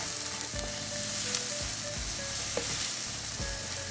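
Chopped garlic and one medium onion sizzle steadily in a hot pan for chop suey, with a few scraping stir strokes breaking through the constant crackle; close and fairly loud, no talking.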